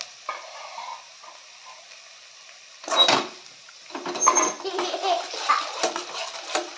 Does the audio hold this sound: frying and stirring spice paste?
yes